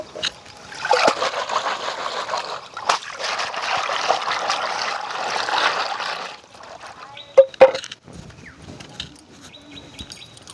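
Cut mud crabs from a small creek are rinsed in water in a Sundarbans village kitchen, giving a steady splashing, trickling wash for about six seconds, then a few sharp clinks and quieter handling with faint birdsong.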